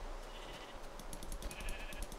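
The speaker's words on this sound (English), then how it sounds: "I've never been more happy in my life to find sheep." Sheep bleating in the Minecraft video game, a few short bleats close by over a faint low background hum, with no talking.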